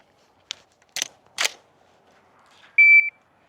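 A shot timer gives a single sharp electronic buzzer beep near the end, following a few short clicks and taps on a quiet outdoor range where steel targets are set up for a firing drill.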